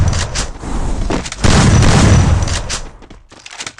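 Loud gunfire in the game Free Fire, a close burst of sharp cracks followed by a sustained heavy booming stretch, then scattered shots trailing off.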